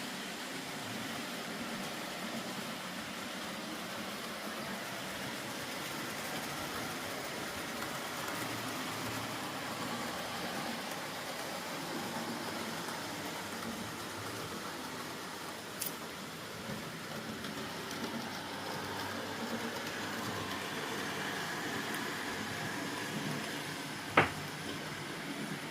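Four N gauge model trains run at once on the Exehaven Harbour layout, a faint steady rumble that carries on throughout with a couple of brief clicks near the end.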